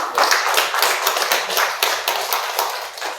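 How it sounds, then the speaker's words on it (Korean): A church congregation at a Wednesday worship service applauding the men and fathers, a dense, continuous clatter of many hands clapping at once, loud and close throughout. "우리 남성 우리 아버지들 한번 박수 좀 쳐주세요"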